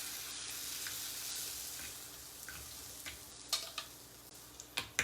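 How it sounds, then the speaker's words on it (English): Churro chaffle batter being stirred in a bowl, a soft steady scraping wash with a few small clinks and taps near the end, quiet and close with no talking. "That is such a pain, mixing it."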